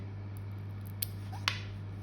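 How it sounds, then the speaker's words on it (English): Scissors snipping an acrylic nail tip straight across, two crisp, quiet cuts about half a second apart over a low steady hum. "So then with my scissors, I'm making sure the blade comes out at the other side."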